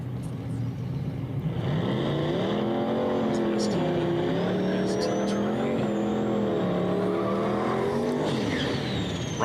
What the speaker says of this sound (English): It's got the perfect blow-off valve for the car.